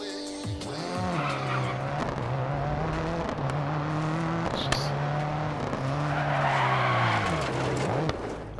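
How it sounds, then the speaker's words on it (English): An all-wheel-drive rally car in DiRT 4 revs and drones steadily through a short practice drive, its engine note rising and falling with gear changes while tyres squeal and skid on corners, loud and continuous throughout. "Let's start with a short drive around to get used to the car."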